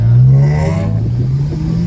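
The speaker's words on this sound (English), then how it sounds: "But when you're revving it, it's proper" A BMW engine revs loudly up close, its pitch climbing then easing back to a rough, throaty hum.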